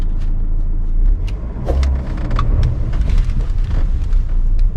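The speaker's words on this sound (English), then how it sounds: "Let's launch the car and give a throttle once. First gear and 2500 rpm." A 2021 Hyundai Venue SX with a 16-valve petrol engine and six-speed gearbox, held in first gear around 2500 rpm, gives a steady loud rumble with small surges, heard from inside the cabin.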